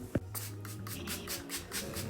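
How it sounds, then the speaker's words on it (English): A spray bottle of apple cider vinegar mixture is pumped onto the scalp between passion twists, giving a quick series of close, airy spritzes at a fairly steady rhythm. "I'm spraying a lot of this mixture."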